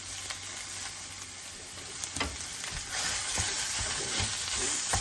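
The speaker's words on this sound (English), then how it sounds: "Now we're going to brown that with the onions" Sausage browning with onions in a pan for stuffing, a loud close sizzle punctuated by scraping stirs and clatters, growing slightly louder toward the end.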